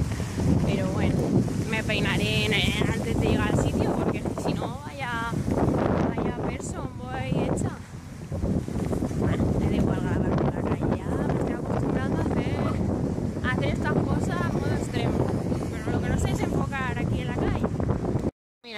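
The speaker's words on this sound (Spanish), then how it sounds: "Madre mía, qué viento hace" Strong wind buffets the microphone outdoors on a street in Alicante near the main theatre, a steady roaring rumble running almost the whole time beneath someone talking and laughing.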